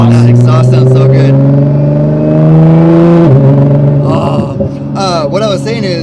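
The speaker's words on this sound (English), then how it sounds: "that exhaust sounds so good" A 1350-horsepower Nissan GT-R accelerates hard from inside the car, its exhaust note climbing loudly through the revs before a gear change, then easing off as someone talks over the engine.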